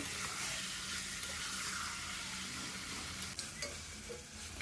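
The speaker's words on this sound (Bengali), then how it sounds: "এবার আমি মশলার সাথে চিকেনটাকে ভালো করে কিছুক্ষণ কষিয়ে নেব।" Chicken cooking with spice masala in a pan, giving a dense continuous sizzle with occasional scrapes and stirring knocks from the spoon.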